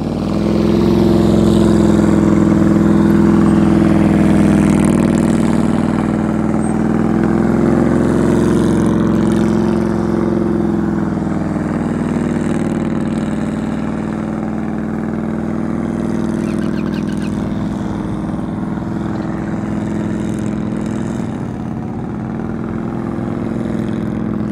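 A motorcycle engine holds a steady, loud, continuous drone at constant throttle during slow-speed riding practice, close to the listener and without pauses.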